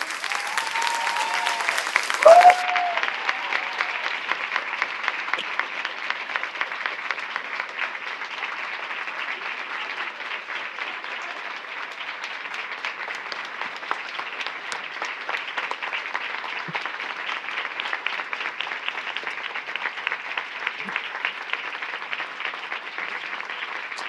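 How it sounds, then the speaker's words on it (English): An audience applauds a panel after an academic discussion on empire, solidarity and academia, with dense, steady clapping that holds for the full stretch after a brief louder burst at the start. "Applause."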